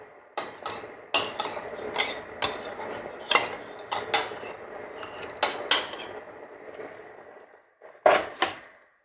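A spoon stirring flour powder into a watery sorrel stew in a metal pot, giving sharp intermittent clinks and scrapes against the pot at an uneven rhythm, close by with quiet pauses between strokes.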